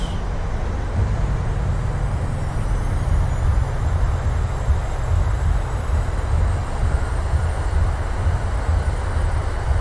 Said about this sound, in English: And we're down. Reversers are out.